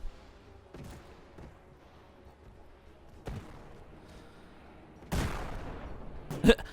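Cannons firing aboard an airship in the strategy game Airships: Conquer the Skies, heard as a few sharp, moderately loud booms at irregular intervals over a low background rumble, the last ones heavier and closer together.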